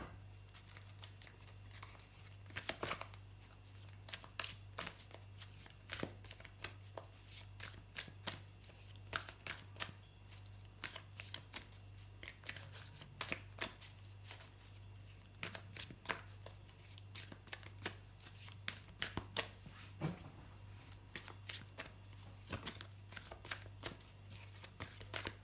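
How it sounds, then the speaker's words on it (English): Tarot cards shuffled and riffled by hand in a quiet room, a steady run of crisp flicks and snaps that come close, clear and unbroken, with no talking over them. "I will just pull you a couple of tarot cards now."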